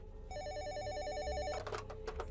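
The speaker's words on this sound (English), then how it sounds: "The phone rang again." A telephone ringtone used as a horror-story sound effect: a brief, warbling electronic ring trilling steadily for about a second before cutting off into scattered clicks, heard alone at moderate volume.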